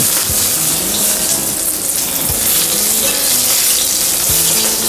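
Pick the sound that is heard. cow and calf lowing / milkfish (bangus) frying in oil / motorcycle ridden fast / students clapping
milkfish (bangus) frying in oil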